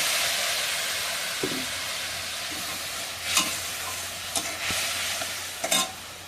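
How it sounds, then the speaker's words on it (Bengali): Spice paste with chili powder and a splash of water is sautéed in a pan, making a constant hissing sizzle broken by several sharp scraping stirs and spoon knocks. "মশলাটা যেন পড়ে না যায় তার জন্য সামান্য জল দিয়ে কষিয়ে নেব।"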